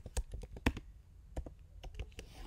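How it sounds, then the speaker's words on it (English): Keys tapped on a computer keyboard while designing a poster, sparse irregular clicks close to the mic, some sharper presses standing out, heard alone without talk. "I type order"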